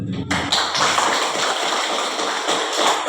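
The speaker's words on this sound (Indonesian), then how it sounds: "kita kasih aplaus dulu" Applause in a school teachers' gathering, a dense burst of many hands clapping close and loud, sustained evenly for about three seconds after a brief voice at the start.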